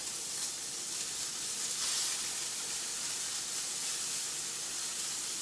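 Steak, with onions and mushrooms, sizzles steadily in a hot skillet as it is flipped: a loud, continuous hiss and crackle with a brief swell partway through and no talking.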